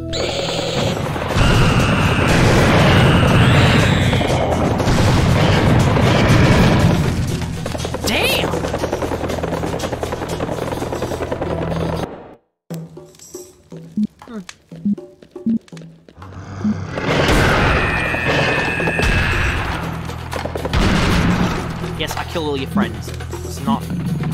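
Grenade explosions go off in the shooter Serious Sam HD: The First Encounter. Heavy booming blasts and rumbling mechanical game noise fill the scene, broken by a brief near-silent gap, while someone talks over much of it.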